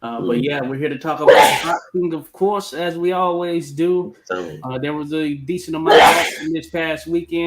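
A person sneezes loudly twice, a few seconds apart, in the middle of steady conversation between people in a boxing chat show.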